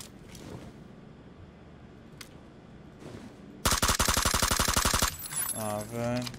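Scattered shots give way to a loud, rapid burst of automatic gunfire lasting over a second in the video game PUBG, followed by a sharp mechanical whine and thuds.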